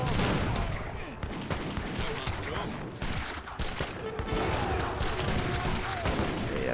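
Artillery and mortar fire in the Age of Empires III battle, with a busy stream of cracking shots and thuds overlapping into a continuous fusillade at moderate loudness.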